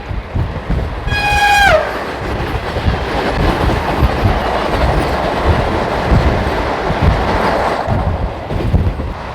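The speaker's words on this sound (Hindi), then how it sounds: "वंदे भारत आ रही है सामने भाई।" A Vande Bharat Express thunders past at close range, sounding a short, bright blast of its horn early on while the heavy roar and rattle of the passing carriages continue loudly to the end.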